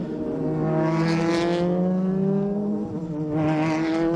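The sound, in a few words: Super GT race cars passing, Epson NSX at SUGO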